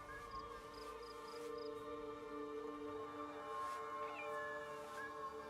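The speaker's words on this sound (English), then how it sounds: "There's a cat up here? I was wondering where the cat was... sounds were coming from." A cat in Assassin's Creed Shadows, a video game, meows faintly in drawn-out, wavering calls over a quiet ambient game backdrop with a few soft high beeps.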